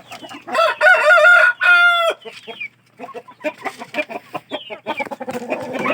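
A Shamo heritage rooster, a Japanese Shamo crossed with Patterson stock, crows loud and close in a long drawn call, followed by softer clucking and fowl noises from the breeding pen.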